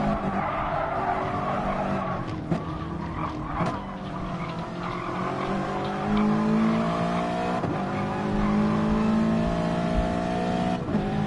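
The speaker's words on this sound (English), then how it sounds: "here's McEwen coming around the last bend already" Race cars circulating in Gran Turismo Sport, a simulated online Nations race, with steady engine drone, rising gear-shift whines and brief tyre squeals as a car rounds the last bend, loud and continuous throughout.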